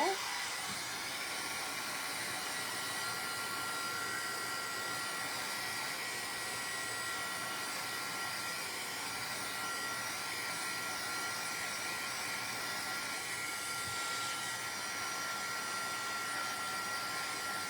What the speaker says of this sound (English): Let me do a quick dry with my heat tool.